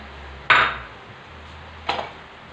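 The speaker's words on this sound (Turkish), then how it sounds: "Maydanozla da bir karıştırayım." A spoon stirs sauce with parsley in a pan, giving two separate metallic clinks against the pan about a second and a half apart over a quiet background hum.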